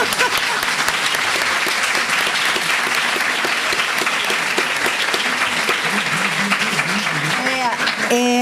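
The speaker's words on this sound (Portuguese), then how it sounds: "A gente queria uma salva de palmas" A crowd claps steadily in loud, sustained applause that fills the whole stretch, with a few voices rising briefly near the end.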